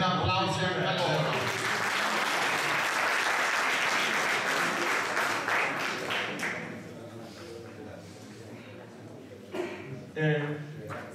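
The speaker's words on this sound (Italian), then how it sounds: "Un applauso anche a loro." Sustained audience applause at an awards ceremony for an equestrian memorial event, dense and steady before tapering off, with a few scattered claps and sounds at the end.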